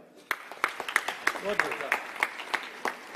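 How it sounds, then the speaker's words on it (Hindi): Scattered applause from an audience at a Jain community gathering, sharp individual claps in a loose rhythm, fairly near, with a faint voice briefly underneath. "एक बार जोरदार तालियों के साथ"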